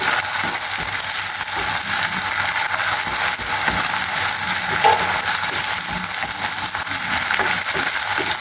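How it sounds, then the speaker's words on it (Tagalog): Tomato paste being stirred into golden-fried garlic in a hot pan, giving a steady, close sizzle with soft scraping of the stirring, alone with no talk. "Haluin natin yung tomato paste."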